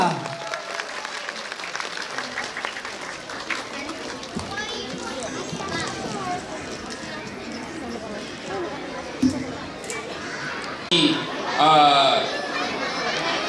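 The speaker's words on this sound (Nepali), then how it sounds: "जोरदार ताली वान मोर टाइम सबैजना" Applause rises for guests, a chief guest, a doctor and three top students at a Kirat cultural program in Columbus, Ohio, with a crowd clapping steadily under chatter and announcer speech, swelling louder near the end.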